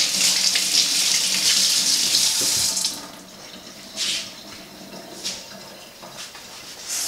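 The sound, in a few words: washing hands under a running tap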